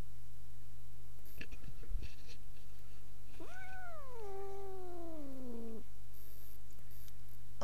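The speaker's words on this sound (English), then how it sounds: "Okay, you can get your cat out now, Robin." A pet cat meows once, a long drawn-out cry rising then slowly falling, close to the microphone over a steady low indoor hum, with a few soft knocks and rustles before it.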